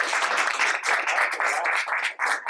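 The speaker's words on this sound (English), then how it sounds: "we will do a round of applause" A short round of applause at a school board meeting, a small group clapping steadily and fairly close, briefly dipping before resuming.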